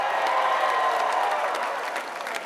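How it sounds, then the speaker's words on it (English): A crowd at a Baylor men's basketball parade claps in dense, steady applause, loud and sustained before tapering slightly at the end. "Give yourself a round of applause."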